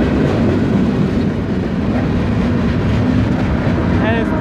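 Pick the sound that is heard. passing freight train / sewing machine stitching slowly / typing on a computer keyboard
passing freight train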